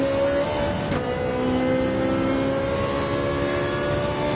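Race car engine in Gran Turismo 7 on the Daytona road course, a steady high-revving drone held at sustained pitch, loud and continuous with a brief shift-like dip near the start, no talk.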